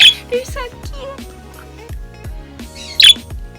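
Pet birds give sharp, brief squawks, one at the very start and a louder one near the end, close by. A person talks softly in between.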